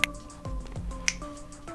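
A sharp finger snap opens the clip, with a second snap about a second later, used to switch a Divoom Tivoo desk gadget on and off; faint tonal hums from the device sit between the snaps.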